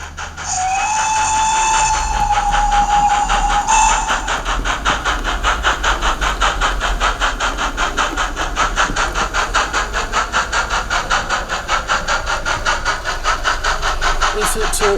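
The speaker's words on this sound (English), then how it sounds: "This train is having a really lovely sound." A model train fitted with an ESU sound chip runs on a layout, giving a whistle-like tone at the start, then a steady rhythmic chuffing close by under a continuous hum, with a voice partly underneath.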